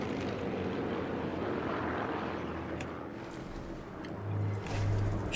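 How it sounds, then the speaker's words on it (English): Propeller aircraft fly over in the video game Sniper Elite, a steady broad engine drone that fills the clip and swells slightly near the end, with no talking. "Oh, there goes the planes."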